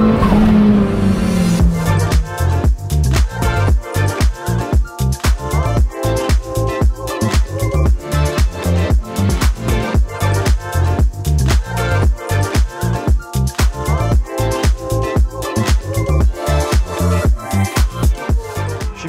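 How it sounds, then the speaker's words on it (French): Cars drift at the Circuit Paul Ricard during a drift event, engines screaming at high revs with rapid pulsing bangs and continuous tire noise, loud and sustained for the whole stretch with no talk. "je sais pas si tu entends mais ça glisse déjà fort derrière"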